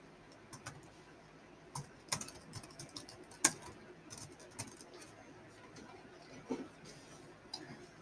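Computer keys click in scattered, uneven taps and a few sharper strikes while someone types a blog post, quiet and close, with faint background bird cooing.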